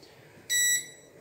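A multimeter gives one short, clear electronic beep while a capacitor is tested on the board of a Philco PH40U16DSG TV, heard alone over faint background hiss.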